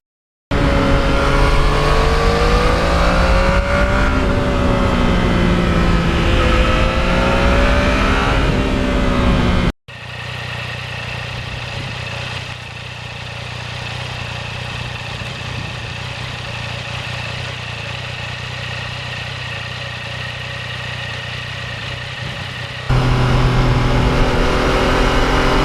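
A custom 2020 Yamaha MT-09 motorcycle engine, holding a loud steady drone with rising and falling revs, then dropping to a quieter even idle before surging loud again near the end.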